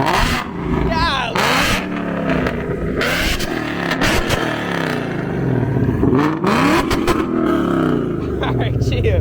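A Ford S650 Mustang GT with newly fitted long tube headers, warmed up rather than cold, revs in loud, repeated rising and falling bursts with sharp blips. People talk close by between and over the revs.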